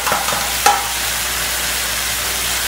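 Beef going into a hot wok of bubbling stir-fry sauce for black pepper beef, a sharp clatter followed by a steady, fairly loud hiss of frying that carries on evenly with no talk.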